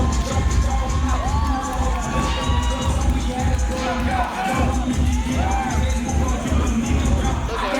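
A loud, continuous crowd roars and cheers at a live wrestling championship match in Lacey. Shouts and whoops rise over a thick, steady wall of noise that lasts throughout.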